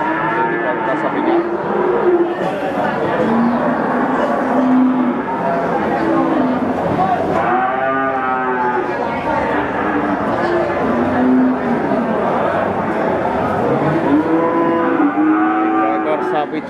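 Several cattle moo and low repeatedly, close and loud, over a constant crowd murmur and some talk at the Wirosari cattle market in Grobogan, Central Java.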